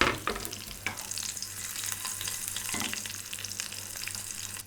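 Green chilies fry in hot tempering oil for rava dhokla, a close, steady sizzle and crackle with a few sharp pops and stirring clinks, and no talking.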